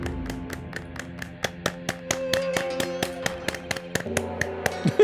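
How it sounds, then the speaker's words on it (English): Rhythmic hand clapping from a played Applause.mp4 clip in an Ace Attorney Spirit of Justice session, sharp regular claps over a sustained musical background with a few louder accents near the end. "It's just the clapping."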